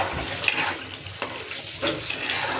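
Hot oil sizzling steadily in a pan as turmeric goes in for an egg curry, with a sharp clink near the start and a few stirring scrapes over the continuous frying hiss.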